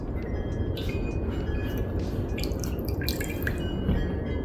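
Water dripping off a soaked leather beret just lifted from a dip, a soft steady patter of drops with a few brighter splashes, close and alone with no talk.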